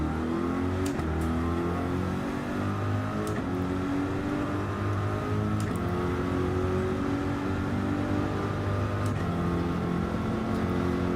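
Several GT3 race car engines circling Bathurst in Gran Turismo, a steady droning roar with rising and falling gear-change pitch sweeps, loud and constant throughout with no voices.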